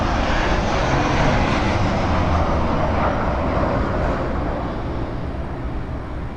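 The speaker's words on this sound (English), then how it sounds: "here go another plane, you guys" A fixed-wing airplane passes overhead near an airport, its engine a loud, steady broadband roar that fills the whole clip and eases off slightly toward the end, with no voices over it.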